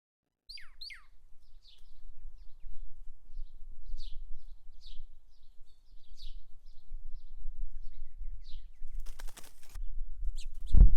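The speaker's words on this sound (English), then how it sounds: "This uninteresting spigot has become a well of life for these house finches." House finches give scattered short chirps and tweets at an outdoor water spigot, fairly faint and spread out. A brief burst of wing flapping comes near the end over a soft background rumble.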